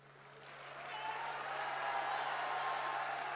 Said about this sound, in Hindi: अरे ताली तो बजा रहे हो भाई